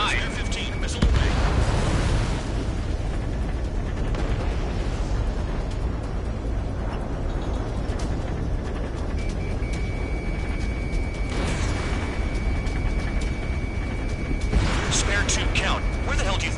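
In the Ace Combat 7 flight game, a missile launches and explosions boom over a constant roar of jet engine and wind, with bursts of noise near the start and middle and a steady whine running underneath.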